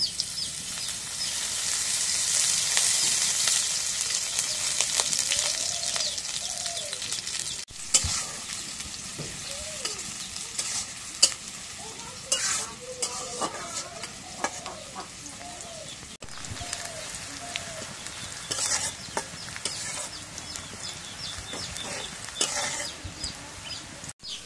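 Oil sizzling in a frying pan while pieces are cooked, a steady hiss with stirring scrapes, faint birds chirping in the background and occasional voices nearby.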